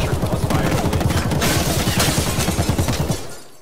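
Rapid automatic gunfire from a video game firefight rattles in a fast, loud, close burst for several seconds, then cuts off and fades.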